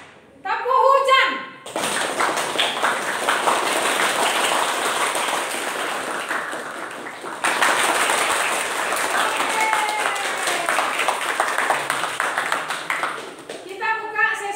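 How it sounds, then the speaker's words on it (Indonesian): A classroom audience of students claps in unison, with rhythmic tap-clapping patterns and a rain-like pattering round of applause, loud and sustained, bracketed by a speaker's voice at the start and end. "Oke, beri aplaus lagi."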